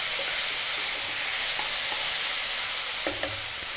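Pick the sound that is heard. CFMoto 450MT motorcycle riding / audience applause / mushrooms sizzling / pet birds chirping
mushrooms sizzling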